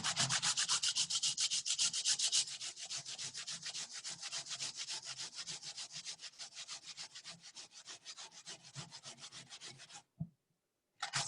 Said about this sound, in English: on the smaller grater, we're going to grate the daikon